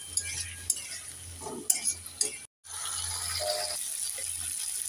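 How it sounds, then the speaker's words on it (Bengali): A pan of goby fish curry with tomato is being sautéed and stirred: a spatula scrapes and rattles in uneven bursts over a steady, close sizzle, with no talking. "এবার নেড়ে চেড়ে 2 মিনিট কষে নেব।"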